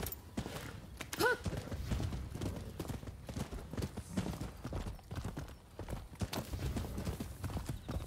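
A horse in the Rise of the Ronin video game galloping with rapid, continuous hoof clatter, close and steady, with a brief whinny early on.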